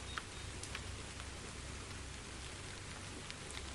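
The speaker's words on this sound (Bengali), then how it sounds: "এত বৃষ্টি পড়ছে" Heavy rain pours steadily over a railway station, forming a dense, even hiss with scattered drops striking nearby surfaces and no voices.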